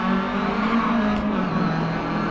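Rally car engine in the Dirt 4 video game drones steadily at high revs, with a brief dip suggesting a gear change midway, loud and continuous with no talk.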